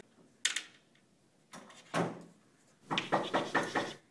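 A door being knocked on or opened nearby, with a few separate wooden bumps and clatters, then a quicker run of knocks toward the end, in an otherwise quiet room.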